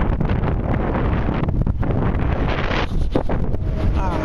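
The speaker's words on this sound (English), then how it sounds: "It's all fucking windy out here" Heavy wind buffets the microphone in loud, continuous gusts, roaring close and drowning out other sounds.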